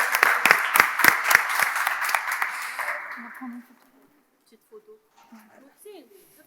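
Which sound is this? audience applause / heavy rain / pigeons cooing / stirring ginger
audience applause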